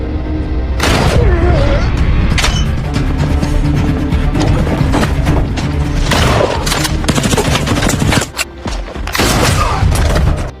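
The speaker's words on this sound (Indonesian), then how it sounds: "Mendengar suara tembakan" Heavy gunfire with loud repeated bursts and booming impacts over a dense, dramatic soundtrack, the shots clustering in several volleys.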